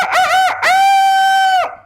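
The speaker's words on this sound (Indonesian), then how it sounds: "Ayam." A rooster crows once, loud and close: a short opening note, then a long sustained call that fades out, with no talk around it.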